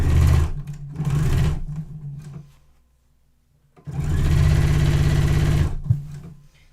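A sewing machine quilts a festive table runner, layering top and batting, in two long continuous runs of steady motor whir separated by a short quiet pause, close and loud with no talking.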